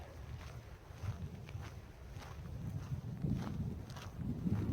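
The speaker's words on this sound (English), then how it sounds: "It's kind of windy." Steady wind rushes and buffets against the microphone, a low gusty roar that rises slightly toward the end, with no voices; outdoors in the snowy San Jacinto mountains on the Pacific Crest Trail.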